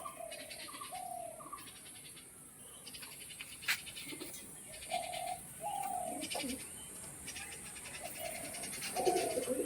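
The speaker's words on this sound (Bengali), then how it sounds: "ভয় পাচ্ছে পায়রা দুটো" Soft coos from Madras pigeons repeat at intervals, with faint chirps in the background and a steady outdoor hiss.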